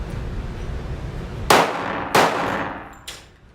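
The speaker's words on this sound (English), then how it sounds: "2 shots really quickly" A Glock 20 pistol chambered in 10mm, fitted with a Trijicon RMR sight, fires two sharp, loud shots in quick succession at an outdoor range, followed by a fainter third report.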